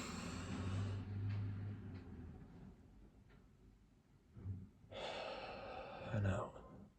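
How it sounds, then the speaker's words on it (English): A slow, deep inhale and exhale taken close to the microphone in a calming ASMR breathwork exercise: long, airy, breathy rushes separated by a quiet pause. "So I'm gonna take a deep breath in."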